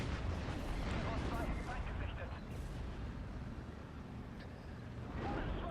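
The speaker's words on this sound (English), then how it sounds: "my Panzer Werfer is finally resupplied and unleashes another rocket salvo over the church" Panzerwerfer rocket artillery salvo in the Steel Division: Normandy 44 video game, a dense rolling barrage of booms and crackling blasts, continuous and fairly distant, quieter midway before swelling again.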